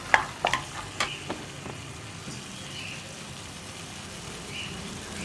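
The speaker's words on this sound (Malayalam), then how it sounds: "ഇഞ്ചി വെളുത്തുള്ളി ആണെങ്കിലും 1 മിനിറ്റ് ഒന്ന് വഴറ്റിയെടുക്കണം. ഇതൊന്ന് നന്നായിട്ട് ഇളക്കി മിക്സ് ചെയ്ത്" A few sharp scrapes and clinks of a spoon stirring ginger and garlic in a pan, followed by a steady low sizzle of them sautéing.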